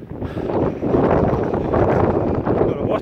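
Strong wind gusting across a hilltop, a loud, rough roar buffeting the microphone continuously for a few seconds.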